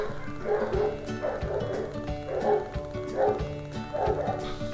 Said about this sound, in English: Y'all are just gonna have to deal with this barking.